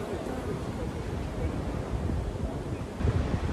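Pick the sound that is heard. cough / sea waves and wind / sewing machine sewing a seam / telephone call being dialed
sea waves and wind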